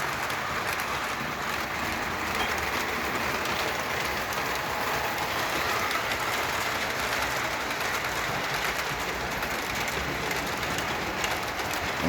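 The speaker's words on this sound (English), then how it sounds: "The smooth running locomotive." A 1978 Lionel MPC Conrail rectifier electric model locomotive runs on a 275-watt ZW transformer, giving a steady, even whirring rumble of motor and wheels on track that holds for the whole stretch without talk.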